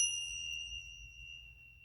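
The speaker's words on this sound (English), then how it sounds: "found my bells." A set of small bells, just found after being packed away, gives a single bright ring whose clear, high tones hang and slowly fade, fairly soft and heard alone.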